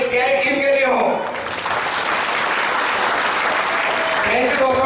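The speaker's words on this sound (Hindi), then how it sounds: "मैं चाहूंगा एक बार जोरदार तालियां मेरी प्यारी टीम के लिए हो" Loud, sustained audience applause fills a seminar hall, cheering a sales team; dense clapping runs steadily throughout, with a voice briefly audible at the start and near the end.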